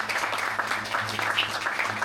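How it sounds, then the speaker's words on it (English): An audience gives a round of applause, a steady dense patter of many clapping hands that holds at an even level for the whole stretch without a break. "How about a round of applause for Jean Julian?"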